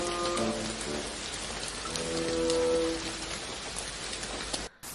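Heavy rain pours steadily, a dense continuous hiss of drops on surfaces with a faint tonal music-like layer beneath, ending abruptly.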